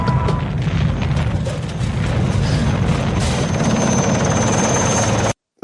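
A helicopter approaches in the film Rambo III, a loud, dense rotor rumble and roar with mechanical clatter that holds steadily before cutting off abruptly.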